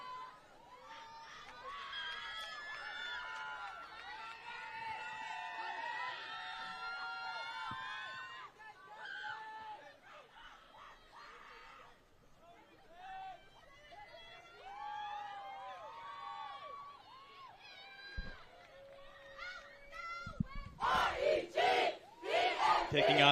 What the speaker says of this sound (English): Kicking off this routine with their cheer.